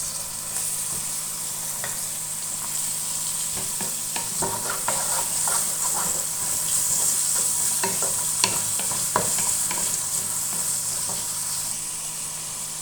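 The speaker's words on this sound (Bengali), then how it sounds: "পেঁয়াজটা একটু হালকা ভেজে নিলাম, এখন দিব চিংড়ি মাছ।" Prawns frying with lightly browned chopped onion in hot oil, a steady sizzle broken by frequent scraping stir strokes and clinks that grow busier midway, close up and continuous with no voices.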